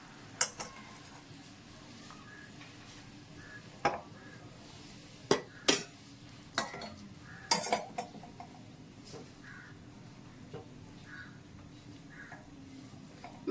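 Metal utensils clink and knock against pots while melted ghee is strained after the stove is switched off, a handful of sharp clanks spread out and fairly close over a quiet kitchen background.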